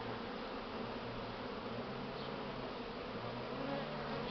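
A honey bee swarm pouring out of the hive makes a dense, steady buzzing hum that fills the whole stretch evenly, with individual bees droning nearby over the mass of wings.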